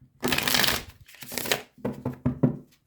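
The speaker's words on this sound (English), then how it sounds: "One more poker shuffle and then we'll get started here." Quick riffling bursts of playing cards being shuffled, several rapid flutters in a row, close and clear with no talking.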